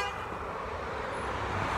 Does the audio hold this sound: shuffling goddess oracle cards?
no